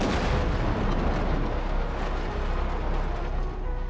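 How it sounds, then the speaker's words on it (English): Two planes colliding mid-air in fog in a Roblox video game, heard as a loud, continuous roaring rumble with dense crackling bursts that hold steady for the full four seconds, with no voices. "as it's flying, it appears to be really foggy when suddenly, yeah, the planes end up hitting each other"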